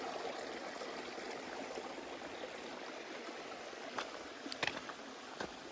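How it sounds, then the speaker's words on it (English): A small stream on Vermont's Long Trail flowing with a steady, soft rushing babble, joined near the end by a few brief knocks and splashes; no one speaks. "There's a little pool up there and down here. Just a little stream."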